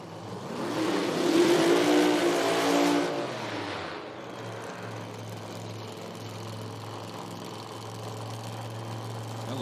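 A drag racing car at an IHRA Outlaw Nitro Series qualifying event in Hebron, Ohio gives a brief loud roar, then settles into a steady, low, droning idle that holds to the end.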